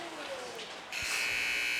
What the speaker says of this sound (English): Buzzer goes, and that concludes the period.